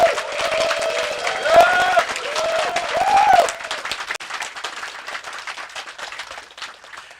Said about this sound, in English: Round of applause for Xander.